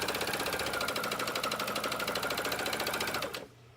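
A sewing machine stitching the gusset seam on a pair of tights, running in a fast steady mechanical rattle for about three seconds, loud and close, before stopping abruptly.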